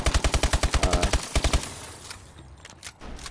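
Rapid automatic gunfire in a first-person shooter video game: a loud, fast string of evenly spaced shots for about a second and a half, a short pause, then a few more rounds before fading into quieter in-game ambience.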